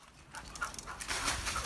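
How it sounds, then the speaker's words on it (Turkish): A police sniffer dog pants in quick, breathy bursts while tracking a scent during a search of a villa garden. The panting is close and steady and grows louder toward the end. "kokuya duyarlı köpek adım adım iz sürdü"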